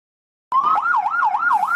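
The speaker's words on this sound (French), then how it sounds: "La sirène d'alerte qui signale son passage aux usagers de la route." A type C medical ambulance siren bursts in loud and close after a short silence, wailing up and down in a quick, regular cycle.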